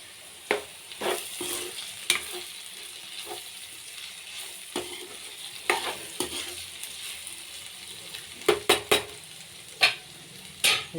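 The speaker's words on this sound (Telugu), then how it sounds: "ఈరోజు పిల్లలకైతే లంచ్ బాక్స్లోకి దొండకాయ ఫ్రై అయితే చేస్తున్నాను ఫ్రెండ్స్." Ivy gourd (dondakaya) frying in a pan with a quiet, steady sizzle, broken by repeated sharp scrapes and clinks as a spatula stirs it.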